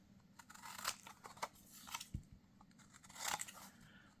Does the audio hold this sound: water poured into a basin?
no